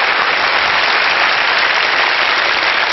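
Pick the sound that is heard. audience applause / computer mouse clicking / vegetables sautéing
audience applause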